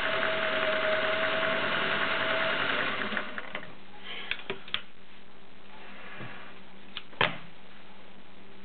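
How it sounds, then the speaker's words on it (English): A vintage Singer Slant-O-Matic 403A sewing machine runs with a steady mechanical whir for about three seconds, then stops, leaving a few sharp clicks and knocks from handling the machine. "that is your Singer Slant-O-Matic Model 403A"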